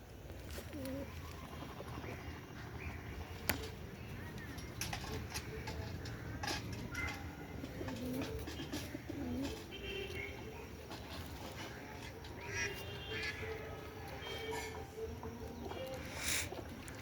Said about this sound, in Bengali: দেখো আমাদের রেসারটা ডাকাডাকি করছে এখন।